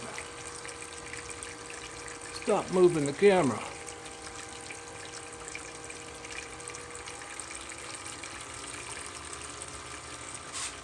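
Water pump on a gold-mining sluice setup, a brief gushing surge of water over a steady low hum, with a person speaking in the clip.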